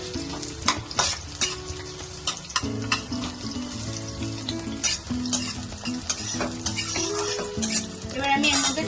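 Onion frying in a pan for palak paneer while it is stirred, a continuous bubbling sizzle with repeated scrapes and clinks of a utensil against the pan, close up, with a low tonal hum underneath and no speech.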